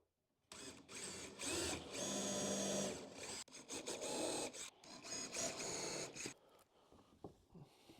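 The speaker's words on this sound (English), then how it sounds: "I'm going to pre-drill all of this" A power drill whirs in several bursts, speeding and slowing as it pre-drills wood for 2-inch deck screws on a planter, close by, then winds down to quiet.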